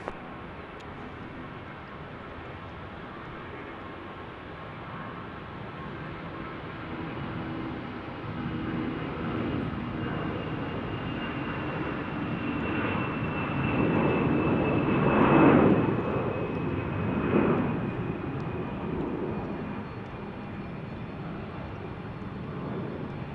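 Jet airliner taking off from Salt Lake City airport, a broad engine roar that swells to a loud peak as it passes and then eases off, with a sustained whine.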